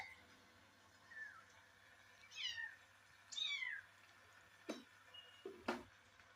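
Young kittens give several short, thin meows, faint and close, separated by quiet gaps, with a few soft clicks and taps near the end.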